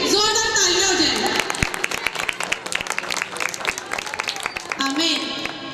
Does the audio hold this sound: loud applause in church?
yes